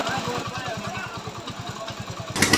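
A rebuilt Hero Passion Pro motorcycle engine runs close by with a steady, even idle thump, ending in a short louder burst.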